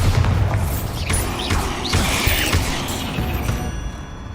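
Blasting spell detonation in Hogwarts Legacy during a fight with spiders, heavy booms mixed with creaking, clattering debris and mechanical rattles over several seconds, no speech.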